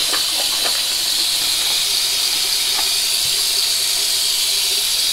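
Water runs steadily from a bathroom tap in a continuous hissing stream during a wet shave with a Merkur 37C razor, with faint splashes and small clinks from a sink, and no talking.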